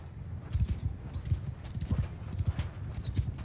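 Cavalry horses gallop across a battlefield in the medieval game Bannerlord, their hooves pounding in quick, irregular clusters at a moderate distance, with a faint neigh and shouting under the rumble.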